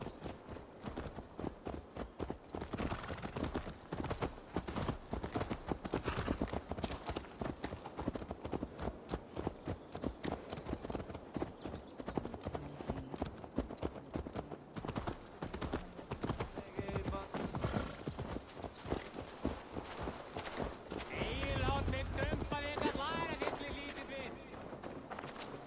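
Horse hooves clip-clopping at a gallop in Assassin's Creed Valhalla, a steady rapid rhythm heard throughout with game dialogue and ambient sound over it, and a brief neigh near the end.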